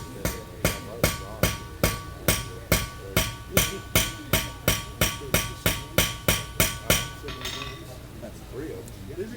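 Sharp, regular hammer blows, about twenty evenly spaced strikes close by, with a metallic ring in each hit before the pounding stops and faint background noise remains.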